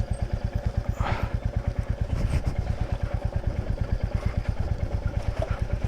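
A motorcycle cruising on an open road between Hosur and Bolumalai Fort, its engine pulsing in a fast, even rhythm up close, steady and loud, with wind rush and no speech.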